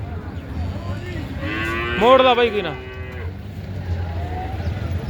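A buffalo gives a loud, drawn-out moo amid outdoor livestock market bustle in Dabwali, with someone speaking briefly nearby.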